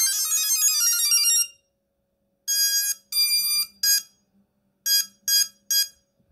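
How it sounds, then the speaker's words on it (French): An FPV drone's buzzer plays a melody through its ESCs: a long shrill electronic tone, then a pause, then a run of short, sharp beeps of different pitches close to the microphone. "un buzzer c'est très pratique, ça permet d'émettre du bruit, du son"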